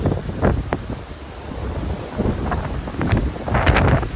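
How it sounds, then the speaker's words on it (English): Strong, cold wind buffets the microphone on a San Jacinto mountain trail along the Pacific Crest Trail, a continuous roaring rumble with rising gusts and crackling bursts throughout. "The wind is just unbelievable."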